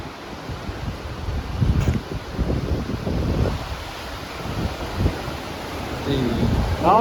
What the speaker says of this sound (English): The Old Chucky River.